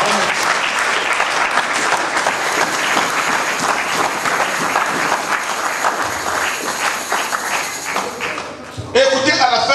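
A church congregation breaks into sustained, loud applause that carries steadily for several seconds before stopping, with a voice heard over it near the end.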